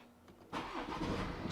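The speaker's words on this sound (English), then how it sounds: "Start the engine, all is okay." A BMW car engine cranks and catches about halfway through, jumping from a quiet hum to a steady, close idle rumble with no talk.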